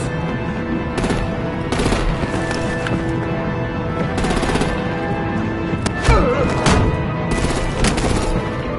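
Artillery and gunfire in a Batman game come as loud repeated bursts of shots and booms over a constant battle din, with a heavier blast partway through.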